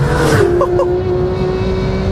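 A Porsche 911 GT3 engine holds a steady, high-pitched drone on a race track, loud and continuous for about two seconds, with a brief rise near the start and what may be a voice underneath.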